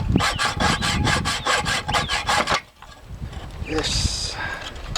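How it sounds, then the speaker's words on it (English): Hacksaw cutting through a thick rusted bolt on an allotment, with steady rapid back-and-forth rasping strokes that stop partway, followed by quieter rustling and faint background sound. "So brought a hacksaw just to see if it'll do it."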